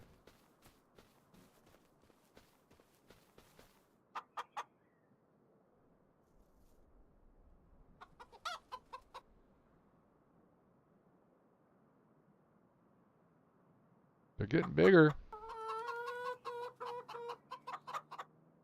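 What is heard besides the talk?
chickens clucking in video game Farming Simulator 25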